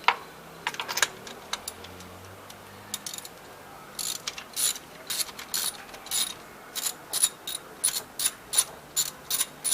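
Rapid ratcheting clicks come from a socket wrench tightening a spark plug on a car engine, in short bursts that grow into a steady run of close, crisp clicks toward the end.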